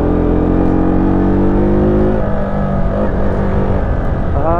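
A KTM RC 200 or Dominar 250 motorcycle engine held at full throttle while climbing a mountain road uphill, a loud, steady, close drone that strains, with pitch shifts midway and a rising rev at the end.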